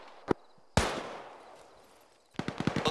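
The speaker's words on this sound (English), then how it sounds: "They're engaging us. Start shooting." Gunfire in the military shooter game ArmA, a sharp single shot, then a loud blast with a long decaying echo, followed by a rapid burst of several shots, close and loud with no talking.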